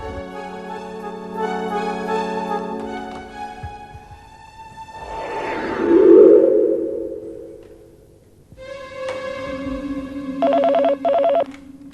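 A telephone rings in an office during a drama, with repeated tonal bursts at moderate loudness, a swelling whoosh in the middle, and a final rapid warbling ring near the end, no talk over it.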